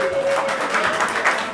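Audience applause at a celebration of rabbinic ordination, a steady wash of clapping from a crowd sustained throughout, with a faint tonal hum running beneath it.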